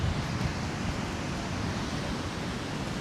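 Steady ocean surf at Legian Double Six beach in Bali, a continuous broad wash of breaking waves with wind rumble, no pauses and no voices.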